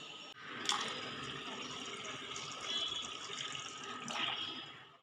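Rice for gulacha sanja is washed in water, with soft swishing and trickling close by, fairly quiet and continuous, broken by a couple of brighter splashes as the water is stirred and poured.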